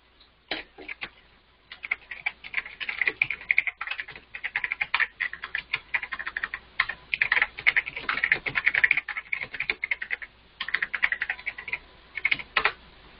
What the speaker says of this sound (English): I'll just type that out as well.